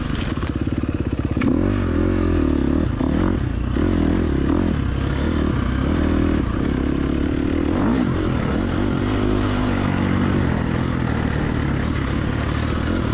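A dirt bike engine in a hare scramble off-road race roars loud and close throughout, revving and shifting with a rough, throbbing drone and some clattering over the terrain.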